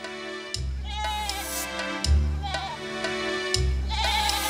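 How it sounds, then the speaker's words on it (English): Goats in a herd on the Danish island of Avernakø bleat loudly and close up, several long wavering calls in a row with a faint buzz of insects behind them. "On the island of Avernakø, Gitte Sørensen lives with her herd of goats"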